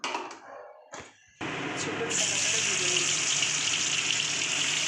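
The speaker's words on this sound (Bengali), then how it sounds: "এবার আমি ভাজবো" Loud, steady frying sizzle of bitter gourd and pumpkin deep-frying in hot oil starts after a short quiet stretch with a few clinks, then continues as a dense hiss.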